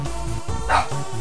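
A dog gives a single short, loud bark close by over a steady low background hum.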